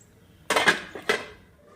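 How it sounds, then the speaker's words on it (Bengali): A metal lid is set onto a cooking pot holding tengra fish with spring onions, giving a sharp clatter followed by a second lighter clink as it settles, close and alone. "এবার ঢাকনা দিয়ে দেব।"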